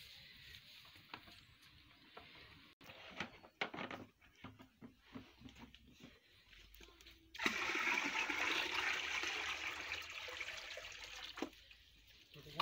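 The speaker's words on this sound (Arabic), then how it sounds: "هذا هو الماء غيطيب" Water rushes steadily in a traditional bathhouse hammam heated by an olive-pit fire. Scattered knocks and clatter come first, then a loud, continuous gush that lasts several seconds.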